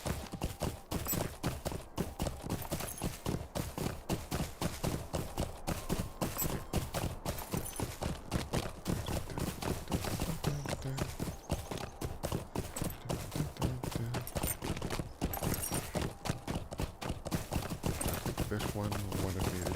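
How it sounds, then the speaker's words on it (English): A mount's hooves clop in a quick, continuous galloping beat in the online game LOTRO, with a voice talking over parts of the run. "I will get on my horsey."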